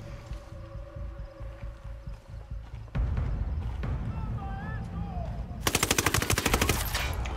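Gunfire in the Ghost Recon tactical shooter game, with a steady rumble of combat followed by a loud, rapid automatic burst near the end, close and prominent over the game's background noise.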